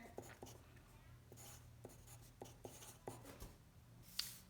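A hand writes a math term during a factoring lesson, producing faint, scattered taps and short scratching strokes in a quiet room.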